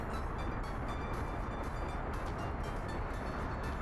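Train loading at a station in Workers & Resources: Soviet Republic, a steady rumbling rail drone with faint clatter that holds evenly throughout, with no talk.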